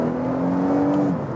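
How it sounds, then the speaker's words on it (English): A 2019 Volvo V60 T6 Inscription with a turbocharged four-cylinder engine accelerates downhill in dynamic mode, giving a loud, steady droning hum with a rising whine that eases off at the end. "Let's switch to dynamic and see the first acceleration of this engine downhill"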